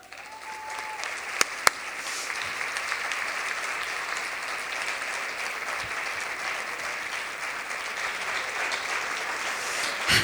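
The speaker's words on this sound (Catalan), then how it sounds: "Fort aplaudiment." An audience at an album presentation concert claps steadily for a guest musician for about ten seconds, a continuous dense ovation with a couple of sharp louder claps near the start and a swell at the end.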